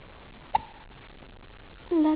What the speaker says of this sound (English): Lots of hiccups.